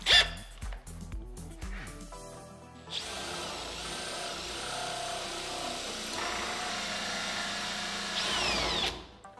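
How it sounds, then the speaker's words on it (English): A drill fitted with a 25mm hole saw bores a latch hole into the face of a door, starting with a few short bumps and knocks, then grinding steadily and loudly through the wood for about six seconds before stopping. "now I need to swap the 44mm hole saw for the 25mm hole saw to drill for the latch on the face of the door"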